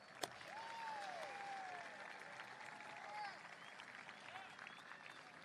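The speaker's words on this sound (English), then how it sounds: "Let us give a big round of applause to the amazing staff of Livermore High School." Sustained applause from a graduation audience honouring the Livermore High School staff, steady and moderately distant, with a brief sharp knock near the start and faint voices over the clapping.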